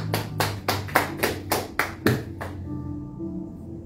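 A church congregation clapping together in a steady rhythm, about nine crisp claps that end abruptly, leaving a quiet room.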